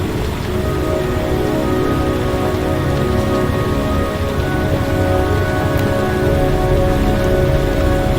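Heavy rain falls steadily in the video game Heavy Rain, a dense, loud, continuous patter on surfaces with a faint low rumble beneath and no speech.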